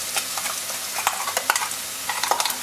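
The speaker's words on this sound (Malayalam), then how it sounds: "അരച്ച് വെച്ചിരിക്കുന്നത് നമ്മളുടെ അരപ്പങ്ങ് ഇട്ട് കൊടുക്കുക." Ground masala paste for Goan chicken vindaloo frying and being stirred with sautéed onions in a pan, a steady close sizzle broken by repeated scraping stirs, with no talk.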